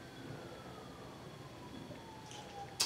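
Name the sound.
distant emergency vehicle sirens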